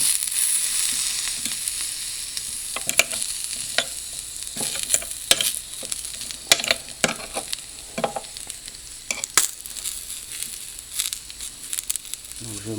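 Broccoli and carrots fry in a hot pan for a Bulgarian sach breakfast, giving a steady close sizzle broken by frequent sharp scraping and clacking from stirring, with faint speech in the background.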